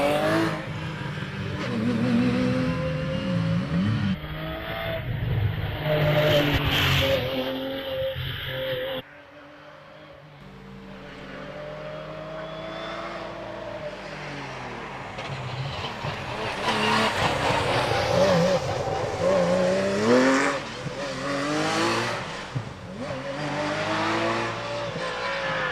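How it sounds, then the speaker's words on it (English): A Porsche race car makes a demonstration run up the Prescott hill climb, its engine revving and shifting through the bends. It is loud and passes close, then fades briefly before rising again, with no talk over it. "This is a demonstration run then for the Porsche."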